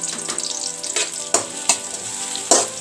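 Onion and carrot frying in oil for vegetable noodles, a steady close sizzle with a few sharp clinks of a spatula stirring against the pan, and no talking.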